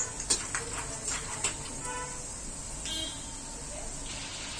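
Sabudana namkeen ingredients deep frying in oil on a medium gas flame give a steady, even hiss, dotted with a few light utensil clinks, while a voice talks faintly in the background.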